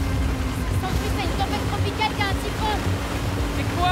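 An inflatable boat in the video game Battlefield 4 crashes through rough waves, with a steady engine drone under rushing water and splashes while someone talks over it.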